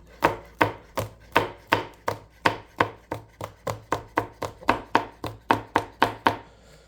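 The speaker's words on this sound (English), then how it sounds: "So I like to make little strips coming down and then just kind of chop away." Knife chopping on a cutting board while prepping ingredients for a beef stew, about eighteen crisp, evenly spaced strikes in a steady rhythm, close and clear with no talking.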